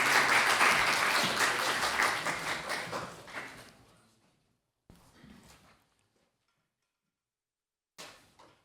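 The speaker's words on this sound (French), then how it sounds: "On peut applaudir." An audience claps at a speaking competition. The dense applause fades out over about four seconds, then a few scattered claps follow, with brief rustles after a pause.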